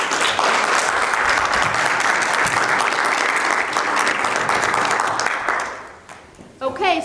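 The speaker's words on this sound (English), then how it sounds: "So give a round of applause for the Sparks." Loud, sustained audience applause for the Sparks children at an Awana awards ceremony, filling about six seconds before fading, after which a voice begins speaking.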